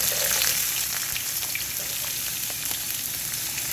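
Vegetables sizzle in extra virgin olive oil in a non-stick skillet over medium-low heat, a steady close crackling hiss with scattered pops, heard alone.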